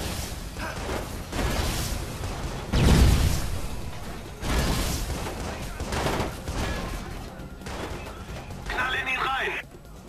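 Gunfire in the video game Watch Dogs, scattered loud shots and bursts with whooshing impacts, mixed under someone talking.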